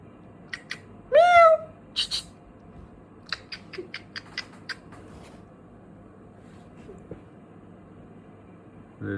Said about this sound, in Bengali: আরে এটা বেঙ্গল ক্যাট